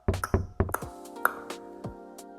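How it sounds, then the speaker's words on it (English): Knocking on a door, several sharp wooden raps in an irregular cluster of about seven or eight hits, close and moderately loud with no voices. "I knock one more time."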